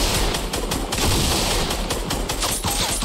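Rapid bursts of gunfire in the Fortnite video game, a dense fusillade of close, loud shots fired in quick succession.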